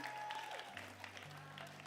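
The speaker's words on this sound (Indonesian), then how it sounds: "Thank you Nathan, tepuk tangan dong buat Najim, luar biasa." Faint, steady applause rises from a church congregation, a soft wash of clapping heard at a distance beneath a sustained musical tone.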